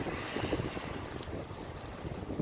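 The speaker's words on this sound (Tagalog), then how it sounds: "Snowstorm in Canada for the first time." Snowstorm wind in Canada roars steadily and close, with heavy buffeting rumble against the microphone throughout.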